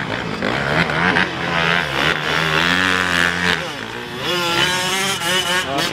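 A motocross motorcycle at a practice track churns through deep ruts, its engine droning and revving steadily with rising and falling pitch, loud and close, while people talk over it.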